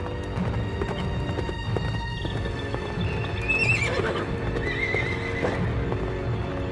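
A horse whinnies in a long, rising and falling neigh while hooves clip-clop steadily beneath it, close and clear over a faint background hum.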